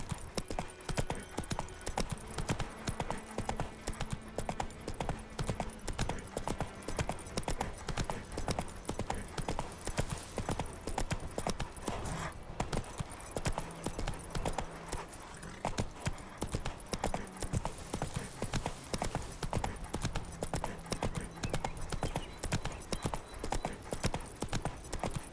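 Hooves of the horse Roach in The Witcher 3, a rapid, steady galloping clip-clop running continuously and close, over a low, droning game music bed, with no talking.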